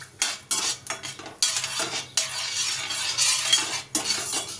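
Cashews roasting in a pan for a Telugu-style Annavaram temple prasadam sweet, with bursts of sizzle broken by clinking spoon-on-pan stirring and scraping, close and fairly loud, no talking.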